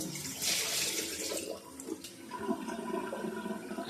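Water rinses buttermilk out of handmade homemade butter, a close, splashy gush that surges early, eases, then swirls and trickles on with small sloshes.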